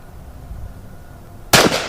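A single loud gunshot cracks out during a shooting lesson after a quiet lead-in, its sharp burst decaying over a fraction of a second.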